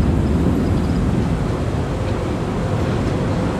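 A broad, steady jet engine roar from an airliner taking off at Tampa airport, loud and sustained without a break, with no voices over it.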